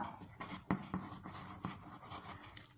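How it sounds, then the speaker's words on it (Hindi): Pen or marker writing figures for a ninth-grade algebra lesson on financial planning, soft irregular scratchy strokes and taps close by, fairly faint, with no talk. "साइड से लिखते हैं थोड़ा"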